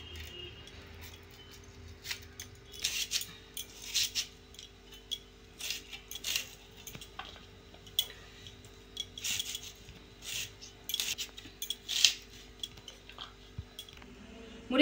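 Onion, tomato, green chilli, ginger and garlic being cut for Bengali fish-head muri ghonto, heard as repeated close knife taps and scraping in an uneven, steady rhythm over a faint background hum.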